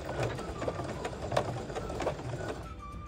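A Singer Heavy Duty sewing machine sews on a button, its needle mechanism running in a steady, close mechanical clatter with regular stitch beats for about two and a half seconds before stopping.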